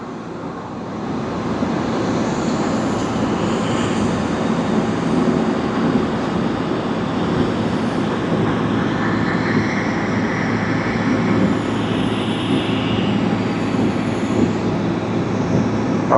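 An airliner in Pokemon livery at Tokyo Haneda Airport gives a continuous, fairly loud jet rumble, building over the first two seconds, then holding steady and unbroken.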